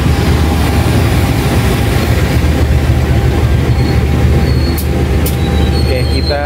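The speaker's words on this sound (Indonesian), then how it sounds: "bertemu dengan kereta api Serayu" Serayu passenger train passing at Cipendei station in Indonesia, a steady loud rumble of rolling wheels and carriages close by, with faint brief squeals and tones near the end.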